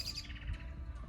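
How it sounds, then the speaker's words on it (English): Small birds chirping outdoors in a quiet, faint scene, with several short high tweets early on over low ambient rumble. "Birds, right?"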